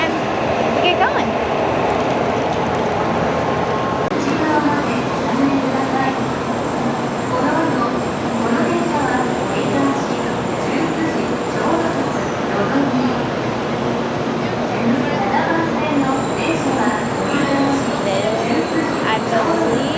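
Steady rumble and hiss of a train and station ambience on a Japanese bullet train trip to Osaka, loud and continuous throughout, with crowd murmur and voices underneath.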